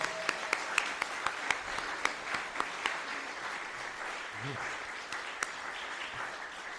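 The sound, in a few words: congregation applause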